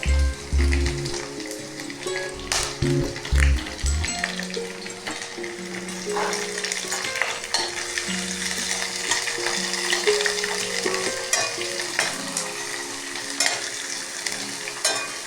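Garlic and curry leaves fry in hot oil for a Kerala mango pickle, a steady loud sizzle with a few early clunks of stirring, close and continuous without talk.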